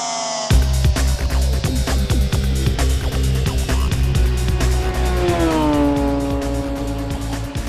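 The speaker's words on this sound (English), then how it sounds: "Well, Mark, let's go take this baby out and see what this thing can do on the fastest road in the West." A Radical SR3 Supersport race car engine roars loudly and continuously nearby, revving through rising pitches as it accelerates hard, with no talking.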